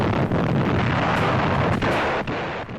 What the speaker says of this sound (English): Archival films, President Roosevelt and Pearl Harbor explosions.